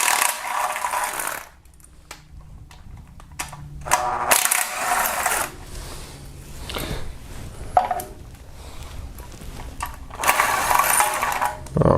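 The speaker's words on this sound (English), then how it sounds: "start removing with 10mm socket a few bolts" A ratchet with a 10mm socket loosening bolts on a Kia Optima engine during valve lifter replacement, bursts of fast clicking ratcheting separated by pauses, close and fairly loud, with no talk.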